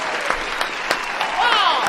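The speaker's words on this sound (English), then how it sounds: "Round of applause in the live chat for Josh." Applause sound effect played during a live stream, a steady crackle of clapping with a few sharper claps, swelling slightly near the end while a voice talks over it.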